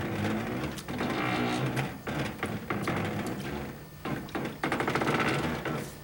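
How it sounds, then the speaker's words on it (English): A hand-cranked wringer squeezes water out of washed clothes with rhythmic creaking, knocking and rattling in uneven bursts, close by, with no talk. "See, that wrings out the clothes."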